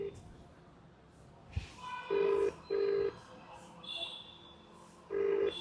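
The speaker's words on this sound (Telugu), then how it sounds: "రింగ్ అవుతుంది ఫోన్ లేపుతలేడు" A telephone ringback tone repeats in short steady bursts with gaps between them, with faint background sounds and no answer.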